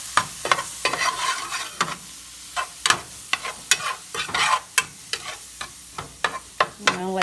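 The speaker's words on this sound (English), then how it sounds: "And then I'll stir it." Seasoned peas with bouillon stirred in a pot, with a rapid series of close spoon clinks and scrapes over a soft sizzle, no talking.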